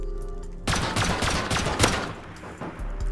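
Sustained automatic gunfire with explosive ammo pounding a base wall in Rust, starting abruptly after a quiet moment and continuing as a loud, close, rapid barrage with sharp impact cracks.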